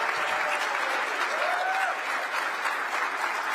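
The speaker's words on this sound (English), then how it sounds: "You can applaud now." Steady applause from an audience at a gala, a dense, even patter of many hands heard from a little distance with a faint whistle partway through.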